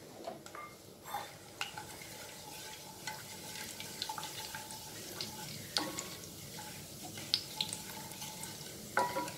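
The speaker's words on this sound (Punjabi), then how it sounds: "ਇਹਨੂੰ ਅਸੀਂ ਥੋੜ੍ਹਾ ਜਿਹਾ ਭੁੰਨ ਲਾਂਗੇ ਤਾਂ ਕਿ ਇਹਨਾਂ ਦਾ ਜਿਹੜਾ ਮਸਾਲਿਆਂ ਦਾ ਸਵਾਦ ਆ ਉਹ ਘਿਓ ਦੇ ਵਿੱਚ ਆ ਜਾਵੇ।" Whole spices (cinnamon, black cardamom, cloves, black peppercorns and cumin) frying in ghee, a faint steady sizzle with light clicks and occasional taps of a spoon against the pan.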